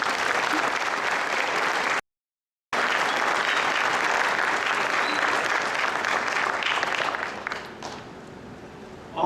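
A large audience at a CES press event applauds the Nvidia engineers with loud sustained clapping, broken by a brief cut of silence, then thinning out toward the end.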